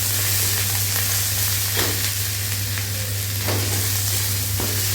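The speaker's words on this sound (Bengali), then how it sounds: "এবারে আমি আদা রসুনের পেস্টটা দিয়ে দেবো এইটা একটু খানি মেরে চেড়ে নেব" Ginger-garlic paste fries loudly in hot oil for a Bengali potato curry, a dense close sizzle broken by a few scraping stirs of a spatula, with a low steady hum beneath and no talking.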